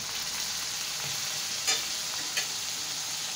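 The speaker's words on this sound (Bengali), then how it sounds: "মশলাটা 5 মিনিট কষানো লাগবে।" Turmeric, chili powder and salt fry steadily in a pan for beef curry, a constant close sizzle broken by two quick scraping stirs.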